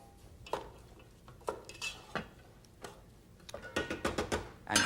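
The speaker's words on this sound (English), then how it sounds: "give it a quick stir." A utensil stirs cut peppers sweating in a pot, giving a series of close clinks and scrapes against metal that are spaced apart at first, then quicken into a busier clatter near the end.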